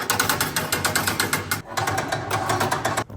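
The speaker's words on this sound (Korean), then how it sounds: "이렇게 체인으로 감겼다 풀리면서 높이 조절을 할 수 있는 제품입니다" A loud, steady mechanical ratcheting clatter of the chain on a chain-driven direct-fire grill winding to adjust its height, rapid and rhythmic, pausing briefly twice before resuming.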